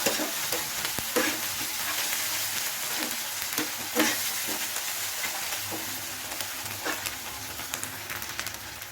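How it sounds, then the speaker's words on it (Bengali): Spice masala with Kashmiri chilli is stirred and fried in a pan for a pomfret fish curry, giving a steady close sizzle broken by repeated scraping strokes of the spoon. "ভালো করে মশলাটা নাড়াচাড়া করে নিচ্ছি যাতে মশলার কোনো কাঁচা গন্ধ না থেকে যায়"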